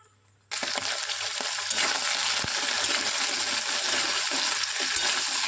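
Small crabs are dropped into hot oil in a wok and stirred. After a brief quiet moment, a sudden loud, sustained sizzle surges up and holds steady, broken by a few faint clinks of stirring.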